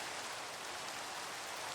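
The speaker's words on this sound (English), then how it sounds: "Go away, rain." Steady rain falls in the Minecraft video game, a soft even hiss of raindrops with no pauses, fairly faint and heard on its own.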